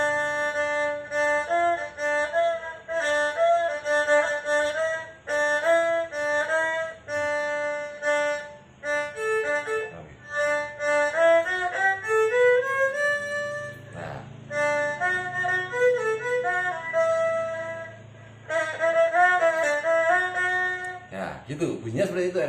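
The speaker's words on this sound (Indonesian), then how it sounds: "Nah, gitu bunyinya seperti itu Erhu teman-teman." A bowed erhu plays a sustained, singing melody with sliding pitch bends, close and fairly loud, phrases flowing almost continuously with short breaks between notes.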